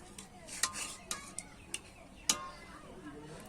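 Cooked raw mango pickle being spooned from a pan onto a plate, a few light clinks and scrapes of a utensil against the dish spaced irregularly, soft and close.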